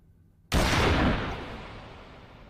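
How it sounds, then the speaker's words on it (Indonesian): A single loud gunshot rings out in a kung fu film fight scene, a sharp sudden blast followed by a long decaying rumble and echo, heard alone without talk. "Master Lee pun tewas ditembak oleh wakil jenderal yang mengambil keputusan sendiri tanpa seizin dari jenderal langsung"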